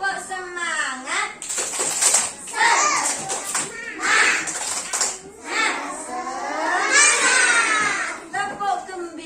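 A teacher leads young children in a rhythmic clapping chant called tepuk semangat in a kindergarten morning session. High, bright children's voices chant in bursts, with quick claps scattered between the phrases, close and lively.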